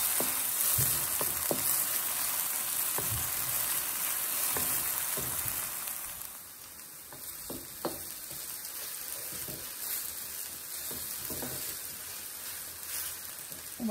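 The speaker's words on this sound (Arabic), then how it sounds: "وبعد ما البصل تاعنا بدا يتحمر" Onions sizzle and fry steadily in a hot pan, a dense crackling hiss with occasional sharper pops, continuous and close with no voices.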